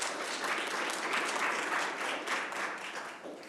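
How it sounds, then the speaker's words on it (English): Brief round of applause from a crowd at a university student success kickoff event, steady clapping swelling slightly then tapering, moderately distant and without talk. "So I would say give yourselves a round of applause for the work that you have done to make that happen."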